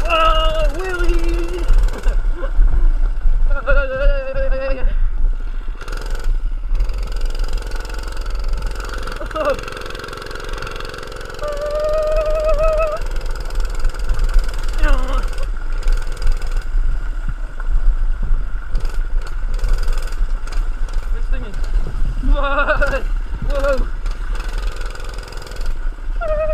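A small mini bike engine drones steadily at high revs during a full speed wheelie, close and continuous, with short rises in pitch and voices talking over it now and then.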